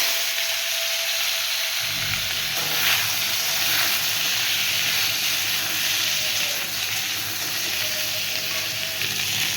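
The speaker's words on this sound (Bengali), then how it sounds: "এবার আমি যে সবজিগুলো কেটে রেখেছিলাম সব সবজিগুলো দিয়ে একটু ভেজে নেব।" Vegetables fry in hot oil with five-spice for shukto, giving a loud, steady sizzle and hiss that runs unbroken throughout, with occasional stirring and no talk.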